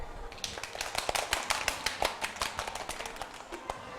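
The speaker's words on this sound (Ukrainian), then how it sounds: "Ваші оплески" Quick scattered hand claps from a small studio audience at a birthday talk show, a short burst of sharp, uneven claps at moderate distance.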